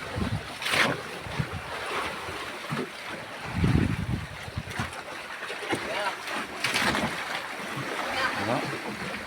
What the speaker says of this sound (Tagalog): Yan ang dagat oh. Malaking alon.